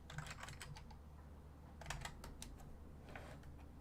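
Rapid, irregular clicking of keys on a Keyboardio Model 01 split mechanical keyboard, close and steady over a faint fan hum, no voices.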